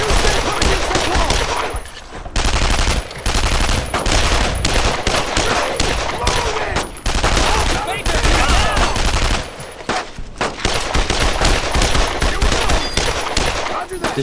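Dense gunfire from rifles and machine guns in the Brothers in Arms World War II game, with rattling automatic bursts and single shots nearly continuous and loud, under shouted voices.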